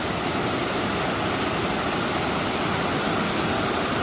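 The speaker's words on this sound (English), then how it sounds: "there's a bunch more waterfalls right up here." Waterfalls at Settlers Cove, Alaska, pour in a steady, loud, unbroken roar of rushing water with no other sounds.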